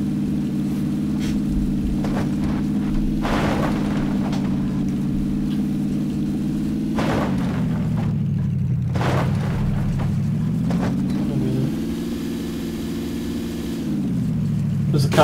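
In a multiplayer video game, a car engine drones steadily with its pitch rising and falling as it moves from right to left and right again, under occasional bursts of other game noise.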